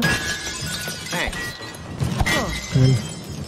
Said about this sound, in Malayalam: ആ ഗ്ലാസ് പൊട്ടിക്ക്